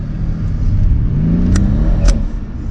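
An AMG V8 car accelerates on an open stretch, its engine rising in a loud, close roar with a couple of sharp gearshift pops, no talk over it.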